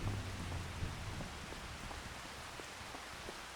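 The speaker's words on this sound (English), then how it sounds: "We got the rain, the October rain." Steady rain from a Farming Simulator 25 game in October weather, a continuous even hiss of falling drops with no talking over it.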